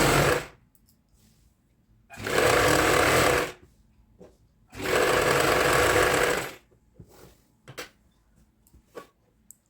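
A sewing machine stitching the back seam joint of a kurti: two loud, steady bursts of running, the second longer, each separated by quiet pauses and a few soft handling clicks, close and with no talking.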